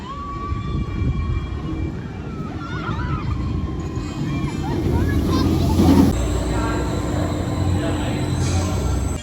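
Baron, a B&M dive coaster at Efteling, rumbles along its track with a continuous roar and a rising metallic whine, heavy and close, under crowd noise.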